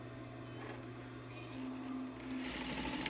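A sewing machine stitches fabric with a steady motor hum and a rapid needle chatter, which runs continuously and rises slightly in pitch partway through, close and fairly quiet.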